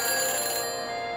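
In the Back to the Future video game, a phone helmet gives off a brief, steady electronic ringing tone, bright and even, heard on its own without talk.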